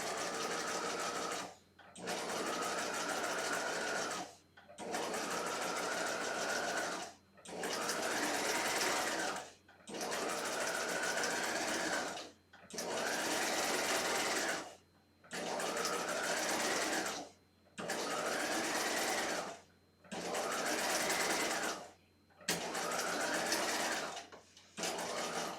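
A sewing machine stitches horsehair braid onto an outer skirt hem in about ten steady bursts of whirring, each a couple of seconds long, separated by short pauses, close and alone.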